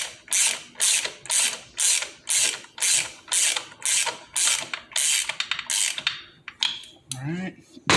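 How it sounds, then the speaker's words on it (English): A ratchet running a nut down on a Harley Davidson primary, a close, loud series of rhythmic clicking bursts that gradually speed up, then a few slower clicks and a brief metallic clink at the end. "Just run this down with the ratchet."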